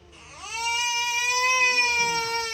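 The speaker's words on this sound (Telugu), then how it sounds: "నా కొడుకు ఏడుస్తున్నాడు" A young son cries close by, a sustained high wailing sob that rises at the start and holds strongly to the end.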